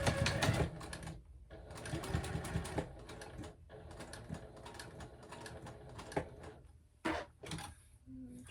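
Sewing machine stitching a seam on a clutch bag: short bursts of rapid mechanical whirring separated by brief pauses, fairly close, with occasional clicks and light handling sounds.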